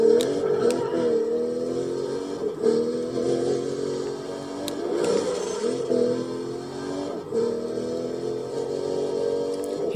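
A car without nitrous driven in Need For Speed Undercover gives a loud, steady engine drone, holding and rising in pitch with brief dips, continuous throughout and with no talking.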